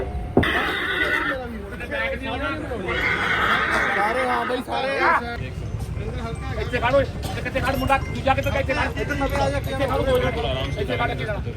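At the Maghi Mela fair in Sri Muktsar Sahib, a horse being unloaded lets out loud, drawn-out whinnies close by, along with hoof clops and people talking in the background.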